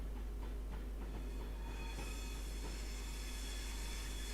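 A simulated train pulls into Crewe station between platforms 11 and 12, giving a steady rolling rumble with faint wheel squeal and rail noise throughout, no voices.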